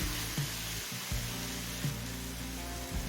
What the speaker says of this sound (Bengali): এবার হাই ফ্লেমে কিছুক্ষণ কষিয়ে নেব